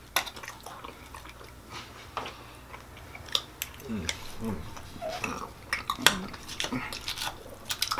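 Cutlery clinks and scrapes against a plate as someone works through a 40oz steak at a restaurant table, with scattered chewing and dish knocks in an irregular rhythm, fairly close and soft.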